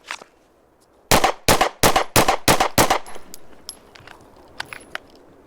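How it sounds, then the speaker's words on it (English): Six rapid pistol shots from a SIG X Macro fired from concealment in a bill drill, sharp close cracks evenly spaced over about two seconds, followed by scattered faint metallic clinks of falling brass. "first drill of the day, the bill drill, a staple of pistol shooting"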